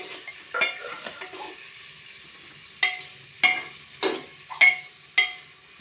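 Green chillies roast in a pan for masale bhaat. Quiet sizzling sits under a series of sharp spatula scrapes and taps against the pan, coming in uneven bursts about a second apart.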